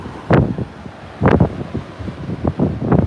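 Tropical Storm Marco winds at Grand Isle, Louisiana, roar in strong, buffeting gusts against the microphone, swelling in several loud bursts over a constant rumbling background.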